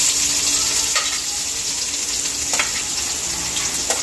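Onions frying in a pan for sweet and sour, a loud, dense, continuous sizzle up close with a few brief clinks of stirring.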